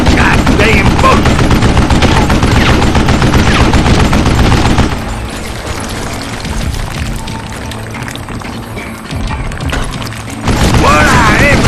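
Loud bursts of gunfire in the western shooter Call of Juarez Gunslinger crackle steadily for several seconds, ease off into a quieter stretch, then surge back at the end, with a voice over the shooting.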